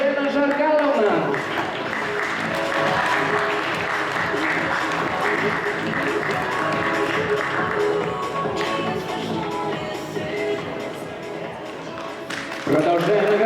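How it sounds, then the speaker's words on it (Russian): Audience at an awards ceremony during a youth volunteer forum at a university applauds loudly and steadily, a dense continuous wash of clapping with background music, tapering slightly near the end before a brief swell. "Мы громко продолжаем аплодировать"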